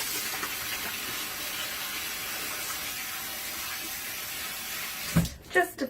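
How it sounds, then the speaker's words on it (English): Hands being washed with soap under a running sink tap, a steady close rush of water for several seconds, ending in a few louder splashes and clunks as the tap is handled. "Just a touch of soap and water. Get some of that extra color off."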